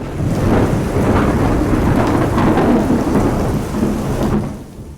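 Thunder rumbling through steady heavy rain on a stormy night, a loud, close roll that swells and fades, then eases toward the end with rain continuing.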